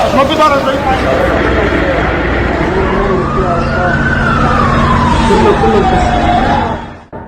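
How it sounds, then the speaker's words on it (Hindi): An ambulance siren wails steadily at the site of a blast amid heavy rubble, rising and falling in a long sweep, loud and continuous under a dense wash of crowd noise and voices. "एम्बुलेंस लगाई गई है।"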